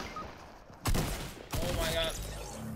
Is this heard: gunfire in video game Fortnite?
yes